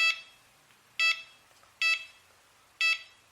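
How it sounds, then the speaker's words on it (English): Four short electronic beeps from a Cheerson CX-20 quadcopter's radio controller, evenly spaced about a second apart, clear and close with no other sounds. "Move the lever around until you find the midway point where it beeps like this."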